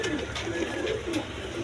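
Black Bombay pigeons, a breeding pair with eggs, coo softly in a steady low repeated rhythm, nearby under a faint background hiss and occasional sharp rustles.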